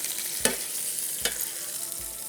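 Beef cheeks searing in a hot pan, a steady close broadband sizzle with a couple of sharp crackling spikes and faint utensil clicks, no voices.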